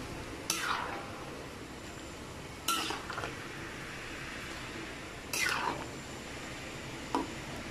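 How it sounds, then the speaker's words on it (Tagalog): A ladle scrapes and stirs through lomi noodles with egg and cabbage in a cooking pot, four separate sharp metallic strokes spaced a couple of seconds apart over a low background hiss. "Gamit na tayo ng sandok."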